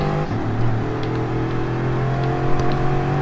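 Bugatti Veyron engine in Gran Turismo Sport, a steady mid-pitched drone with a rising whir as the car accelerates, heard alone and up close.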